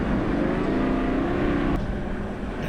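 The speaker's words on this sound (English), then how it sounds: "you can hear the engine of the Grenadier revving there" An Ineos Grenadier's engine drones steadily while climbing a rutted hill track held in a manual gear, a loud continuous low rumble heard from inside the cabin that eases slightly toward the end.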